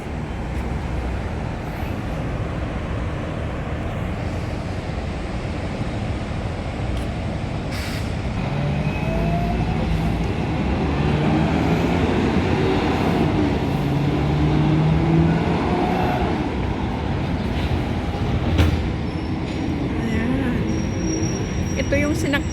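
A Hong Kong tram rolls along its rails on the way to Happy Valley, a steady low rumble and rattle with occasional squeals, passing traffic and voices mixed in throughout.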